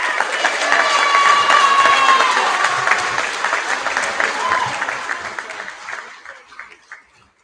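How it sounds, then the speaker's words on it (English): An audience at a high school senior prize giving claps steadily in a loud, dense burst of applause that gradually thins and fades out over several seconds. "A round of applause, please."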